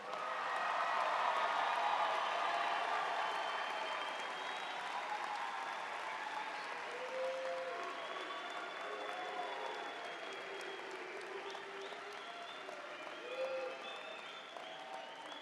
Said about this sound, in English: please join us in another round of applause for all of our graduates